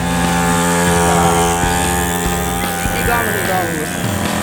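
A mini motorcycle's small engine buzzes loudly and continuously on a riding track, revving with shifting pitch as people talk over it.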